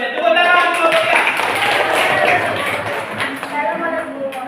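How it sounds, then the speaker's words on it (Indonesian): Classroom students clap for a group after its presentation, a brisk scattered patter of hands with a voice talking over it. "Tepuk tangan kelompok 3"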